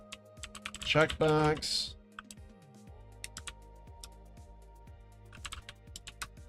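Light, quick clicks of CSS code being typed on a computer keyboard, close up, with a short stretch of speech near the start.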